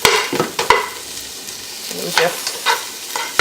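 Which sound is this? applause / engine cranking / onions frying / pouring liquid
onions frying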